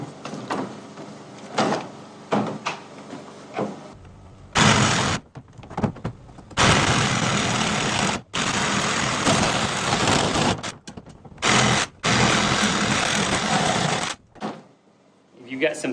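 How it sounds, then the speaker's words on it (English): A saw cuts through 3-inch PVC elbows for a chicken feeder in long loud bursts separated by short pauses, close by, with brief stops between cuts. "I'm gonna go ahead and cut these other two elbows."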